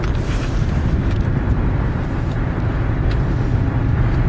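Toyota Corolla driven on a service road in traffic, a steady low engine and road rumble with tire noise, continuous and close throughout, no talking.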